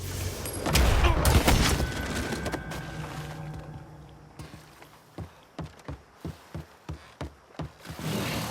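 A loud gunfire volley bursts out following a shouted fire command, then fades into a run of evenly spaced, heavy thumps.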